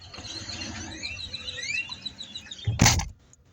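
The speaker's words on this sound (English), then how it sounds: "But you hear these birds." Birds chirp outdoors, a flurry of thin rising and falling tweets repeating over a low rumble of background noise, ended by a sharp loud clunk near the end.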